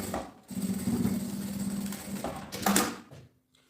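Sewing machine running steadily for a few seconds, stitching the edges of fabric pieces together while assembling a bag; a continuous mechanical whir close by with a short pause and restart near the end, no talking.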